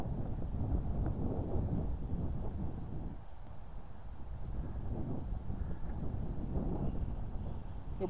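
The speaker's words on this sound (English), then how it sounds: "wind seems like it's getting even stronger as well now" Strong wind buffets the microphone on an open golf course, making a loud, continuous low rumble that surges and eases in gusts with no voices.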